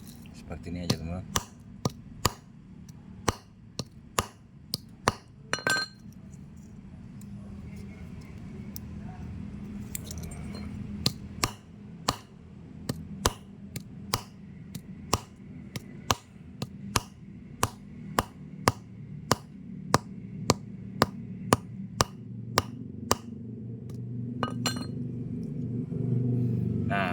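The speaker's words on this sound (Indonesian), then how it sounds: "kegunaan palu ini bukan untuk apa-apa, jadi untuk memukul bodrek ini teman-teman, biar berubah menjadi tepung ya" Bodrex tablets are pounded into powder with a hammer, giving a long run of sharp, close knocks at an irregular pace over a steady background rumble.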